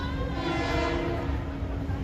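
A Metro-North commuter train bound for North White Plains rolls into a station, a loud steady rumble with a sustained tonal whine and horn-like hum held throughout.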